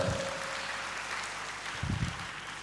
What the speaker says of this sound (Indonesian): Yang mau berikan tepuk tangan bagi Tuhan